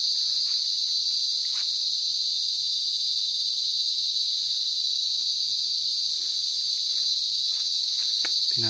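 Crickets and other insects hum and shrill steadily on a farm lot in Magdalena, Laguna, among jackfruit, lanzones and banana trees; a constant high, dense chirring fills the whole stretch with faint scattered rustles beneath.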